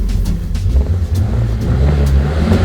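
An old beater car's engine revs hard and steadily during a brake-stand attempt, a loud low rumbling drone that rises and falls slightly, close up with no talking.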